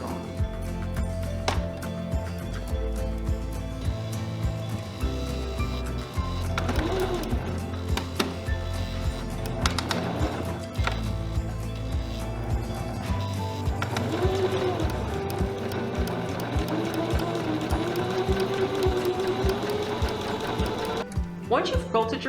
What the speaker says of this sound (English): Sew through all 3 pieces of fabric right along the lines that you've drawn.